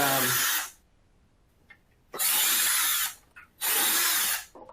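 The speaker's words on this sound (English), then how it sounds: "drill a bunch of holes." A power drill boring holes in leftover plumbing pipe, three loud, close whirring bursts separated by short quiet pauses, with no talk over them.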